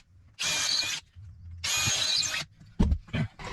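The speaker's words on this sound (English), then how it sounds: "So now just popped a screw in each one of them holes so it's sticking up." A power screwdriver drives screws to hold a panel in place on a narrowboat, two sustained whirring bursts close by, followed by short clicks and knocks.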